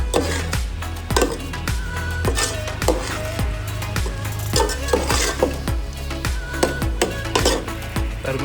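Prawn masala rice with whole spices being stir-fried in a pan, with repeated rhythmic scrapes and clanks of a spoon against the metal over a steady sizzle, close and busy throughout.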